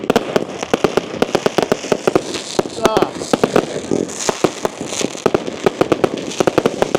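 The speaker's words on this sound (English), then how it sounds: "I've been to firework displays in my time, but this is pretty good." Bonfire Night fireworks bursting over town streets: a dense, rapid barrage of sharp bangs and crackles at a mid distance, fairly loud and continuous, with a brief exclamation from a person nearby.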